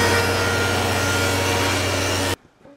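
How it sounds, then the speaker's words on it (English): A wood board feeding through a planer gives a loud, steady, high-pitched machine whine with cutting noise that holds evenly, then stops abruptly near the end, leaving quiet room sound. "So let's go over to the planer and I'll run this through until I get close to the width of the dado."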